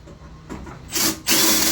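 Power drill mishandled during a BG Fortress consumer unit installation, with a quieter rubbing start giving way to two loud, close bursts of high-pitched whirring.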